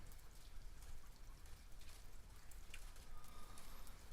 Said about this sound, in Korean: 비도 내리고